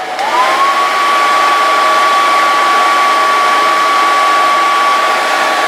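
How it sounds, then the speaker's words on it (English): A hair dryer running on a Bluetti AC2A portable power station, a loud, steady fan whoosh with a constant whine that settles in after a quick rise at the start. "you heard the sound of the fan there"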